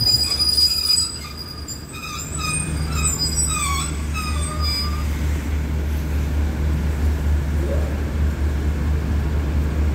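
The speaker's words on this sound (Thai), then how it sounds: "รถด่วนขบวนที่83นะครับต้องมา" Express train number 83 at Ban Pong station in Thailand, heard as a continuous low rumble of rolling railcars with high metallic wheel squeal rising and falling through the first few seconds and no talk.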